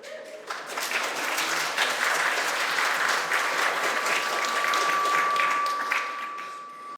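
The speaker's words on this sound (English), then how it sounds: "the reason everyone started applauding" An audience at a live recording of a show about Agatha Christie breaks into dense, sustained applause, loud and steady for several seconds before tapering off.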